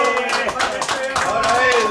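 Applause at a birthday party for a guest of honor. Hands clap steadily and briskly, with a voice calling out over the clapping.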